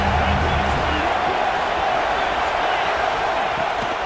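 A stadium crowd roars continuously in an American football video game, a dense, steady wash of noise with no pauses, loud and even across the whole stretch.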